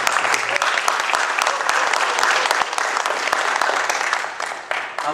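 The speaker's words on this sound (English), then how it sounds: "Congressman Mario Diaz-Balart is in the house," A crowd at a campaign gathering gives loud, sustained applause and cheering for Congressman Mario Diaz-Balart, the dense clapping fading slightly toward the end.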